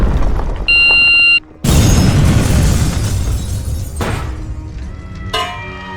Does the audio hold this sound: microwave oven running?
no